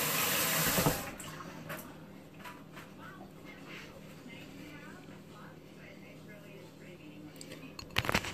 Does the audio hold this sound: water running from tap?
yes